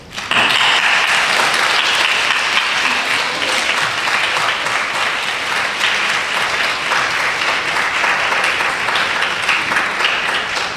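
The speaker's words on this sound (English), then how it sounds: "please join me in a rousing round of applause for Trevor Lee" A large audience at a keynote and panel event breaks into loud, sustained applause, a thick, even wash of clapping that starts abruptly and holds steady to the end.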